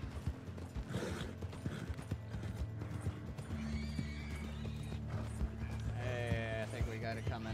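Horse hooves clip-clop at a galloping pace in Red Dead Online, with a whinny and neighing near the end, plus faint mechanical clicks over a steady game backdrop.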